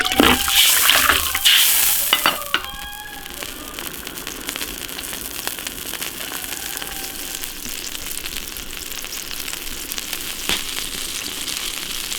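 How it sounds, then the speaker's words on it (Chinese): Lamb offal stir-fried in an iron wok, a loud bright sizzle with clanks of stirring at the start that drops to a steady softer simmering bubble once water goes in, with no talk. "炒香加水"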